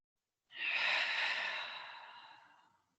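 A single long, airy exhale during a yoga session swells quickly and then tapers off slowly, close to the listener, with silence before and after.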